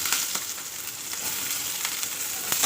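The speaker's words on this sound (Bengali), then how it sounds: "আর আমি দিয়ে দিব এখন পেঁয়াজ আর কাঁচা লঙ্কা" Chopped onions and green chillies frying in hot oil in a pan for aloo paratha filling, a steady close sizzle with light stirring clicks and no talk.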